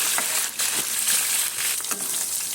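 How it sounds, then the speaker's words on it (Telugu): Ten garlic cloves, a spoon of cumin seeds and slit green chilies fry in a kadai, giving a dense, loud sizzle with crackling spatters throughout. "10 వెల్లుల్లి రెబ్బలు, 1 స్పూన్ జీలకర్ర, అలాగే 10-12 పచ్చిమిర్చి ఘాట్లు పెట్టుకొని మనం వేసుకొని ఒక 2 మినిట్స్ మటుకు ఫ్రై చేసుకోవాలండి"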